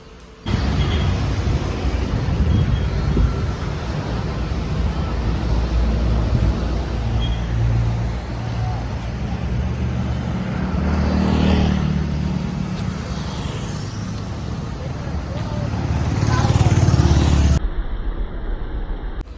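A steady, loud car engine rumble runs nearly continuously, swelling slightly as if revving or accelerating toward the end before cutting off abruptly.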